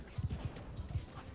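Horse hooves in Bannerlord Realm Of Thrones, a quick run of muffled clip-clop thuds in an uneven galloping rhythm, fairly quiet and close.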